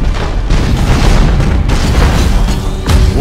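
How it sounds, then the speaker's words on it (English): An enemy spaceship blowing up in the space strategy game Battlefleet Gothic: Armada: a heavy, loud rumbling boom with crackling debris rolls on, and a second burst hits near the end, with no talk. "We should keep our distance from the enemy ship, sir. It will soon explode."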